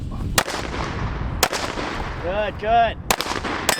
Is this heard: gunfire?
yes